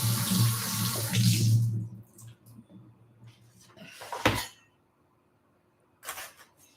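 A kitchen tap runs water over vegetables and tofu during home cooking, a steady close splashing for about two seconds, followed by scattered clinks and handling knocks with quiet gaps.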